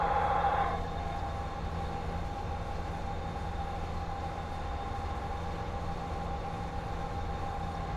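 Freight train cars, reefers and then a caboose, rolling past behind a Southern Pacific GS-4 steam locomotive in Train Simulator 2017: a steady rumbling rail clatter with a brief brighter tone at the start, moderate and continuous, with no talk.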